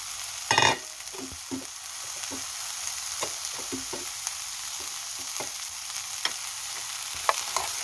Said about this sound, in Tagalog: Now, ilagay na natin yung mga ingredients. Like onions and green onions.